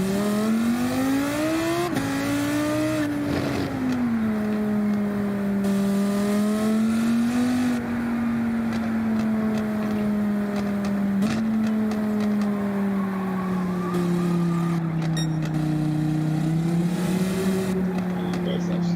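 Lamborghini Huracan race car engine in Gran Turismo, a loud sustained drone with rising and falling revs and gear changes, a talking voice over it.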